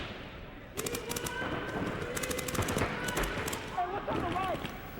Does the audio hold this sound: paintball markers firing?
yes